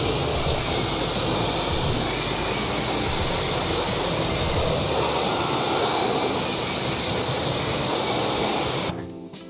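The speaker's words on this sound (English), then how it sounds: "So now we're gonna give it a quick rinse down" Water spraying steadily onto a car wheel during a rinse-down while detailing, a loud continuous hissing rush close by that cuts off abruptly near the end.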